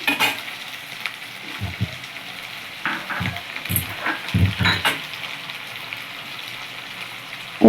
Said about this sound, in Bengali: আদা বাটাটা তেলের মধ্যে ভালো করে নেড়ে চেড়ে এখানে মিশিয়ে নেব